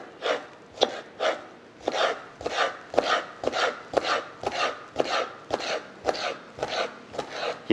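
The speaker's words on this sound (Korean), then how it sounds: "이렇게 자르는 거는 모양이 흐트러지지 않게 하려고 이렇게 자르는 겁니다." A knife cuts through gizzard shad on a board for boneless sashimi, giving a steady series of about fifteen crisp, evenly spaced chopping strokes, close and clear with no talking.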